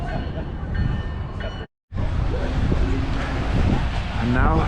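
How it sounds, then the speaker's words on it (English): A commuter train pulls into a New England station on opening day, heard as a loud, steady rumble with wind buffeting the microphone and a brief dropout partway through; muffled voices are faintly present beneath it. "Train approaching. Please remain behind yellow line."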